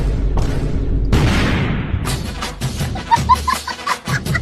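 An auto bomb firecracker set in cow dung bursts with a loud, sharp boom, followed by a broad crackling rush and several scattered pops and thumps, with no talk over it.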